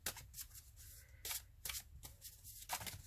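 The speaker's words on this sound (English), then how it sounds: "Trying to give these a really good shuffle" Several quick bursts of card shuffling, crisp riffling rattles repeating in short bursts with brief pauses, close up and fairly quiet.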